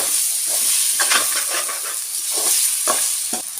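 Curry leaves and about twenty garlic cloves sauté in hot oil for Pallipalayam chicken. A loud, close crackling hiss runs throughout, broken by bursts of stirring and scraping in the pan.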